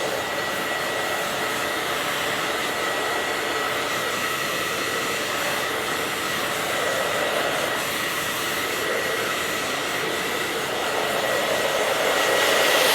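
A blow dryer runs steadily for the whole stretch while a man's hair is dried during a men's haircut in a salon, a loud, constant whirring airflow with no talk over it.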